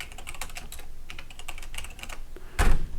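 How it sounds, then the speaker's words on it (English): Computer keyboard arrow keys tapped in quick irregular bursts at a Raspberry Pi setup, crisp close clicks with one heavier thunk near the end, no speech. "Yes, of course I'm pressing the arrow keys"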